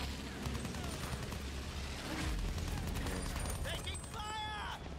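Rapid gunfire crackles in Battlefield 1, a dense rattle of shots under continuous battle noise, with voices talking over it.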